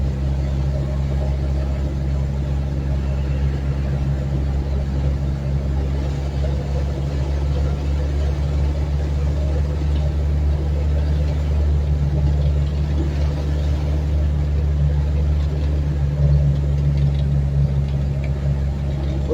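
A steady engine idles close by, a constant low rumble with a droning hum that holds unchanged throughout.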